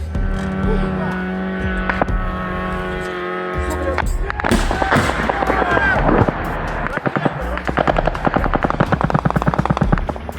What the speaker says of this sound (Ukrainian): Це так бійці 302-ї зенітної ракетної харківської бригади збивають те, що вчергове полетіло по Харкову